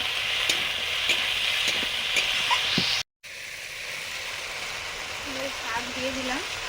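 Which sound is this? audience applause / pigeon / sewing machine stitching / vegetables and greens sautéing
vegetables and greens sautéing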